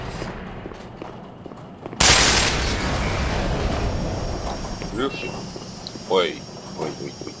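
A grenade explodes in the game Black Mesa with a sudden loud blast that leaves a rumbling, slowly fading tail, followed by a voice talking over the aftermath.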